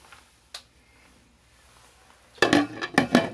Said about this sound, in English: we'll put the lid on them here